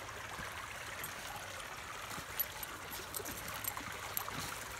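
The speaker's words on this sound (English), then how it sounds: "There's a waterfall over here." Faint trickling and splashing water from a small cascade runs continuously in the distance, soft and even.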